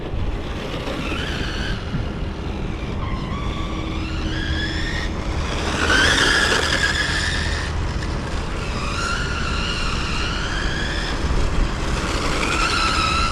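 A small MJX 1:10 scale RC car, a Citroen C3 or VW Polo, runs with whining motor tones that rise and fall repeatedly, with tires squealing and skidding through turns over a steady noisy background.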